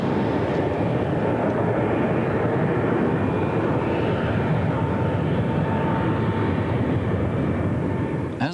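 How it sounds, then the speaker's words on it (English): A BAC One-Eleven jet in a maximum-rate descent during a pressurization-failure dive practice, giving a loud, steady broadband roar of engine and airflow that holds unbroken from start to end. "As the 111 dived at the maximum permissible rate"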